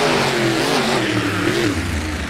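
Race car engines in a video game roar loudly off the start line, a continuous strained revving with pitch climbing and dipping as the cars accelerate away, no voices.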